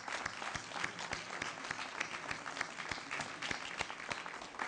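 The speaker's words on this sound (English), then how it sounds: "Let's give them a round of applause." Sustained applause from an audience honoring legislators at a regional commission event, steady dense clapping throughout, fairly distant and even in level with no talk over it.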